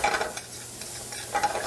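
Onions sizzle and hiss in steak pan drippings, a steady close frying crackle with a few louder stirring scrapes at the start and end, no talking.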